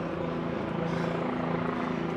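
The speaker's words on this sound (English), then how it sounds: "TV helicopters, 3 of them above us right now." Three TV news helicopters hover over Manhattan, a steady droning rotor hum overhead at moderate distance, continuous throughout.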